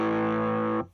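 A single sustained, heavily distorted chord rings from a Fender American Vintage II Telecaster Deluxe electric guitar, held loud and steady for under a second before being cut off abruptly.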